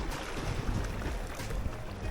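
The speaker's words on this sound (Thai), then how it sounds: "ลมแรงนะครับนะนะ อาจจะมีเสียงลมกวนนะครับ" Strong wind roars steadily across the microphone at a shallow, rocky sea shore on a squid-fishing outing, a continuous low buffeting rumble with no voices.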